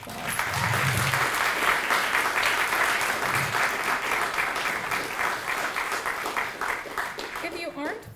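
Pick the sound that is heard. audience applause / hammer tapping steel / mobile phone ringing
audience applause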